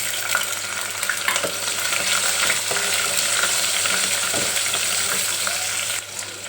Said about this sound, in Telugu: వెల్లుల్లి రెబ్బలు కొంచెం వేగినాక